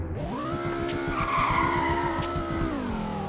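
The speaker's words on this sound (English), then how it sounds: "to drift without like popping your tires in Greenville" Car drifting in the Roblox game Greenville, a steady engine roar with long sliding tire skid and squeal that swells in the middle, close and loud throughout with no talk.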